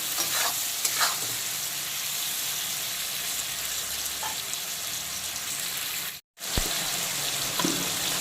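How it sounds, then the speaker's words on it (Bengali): Onion, tomato and green chilli fry in a pan for a prawn and pointed gourd malai curry, a constant loud sizzle with repeated scraping stirs and one brief silent gap near the end. "পেঁয়াজ টমেটো আর কাঁচা লঙ্কাটা খুব ভালো মতো ভাজা ভাজা হয়ে যায়"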